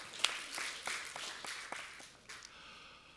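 A small audience gives sparse applause for documentary filmmakers, a handful of distinct, faint claps spaced unevenly before trailing off.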